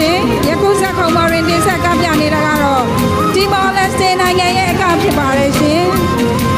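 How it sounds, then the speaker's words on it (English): A large crowd cheers and chatters at the 27th SEA Games opening ceremony in Nay Pyi Taw, a dense roar of voices and whoops with music underneath, loud and continuous throughout. "you can hear the crowd getting really excited"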